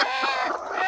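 Brooding hens clucking at close range, a short run of soft throaty clucks with no talking.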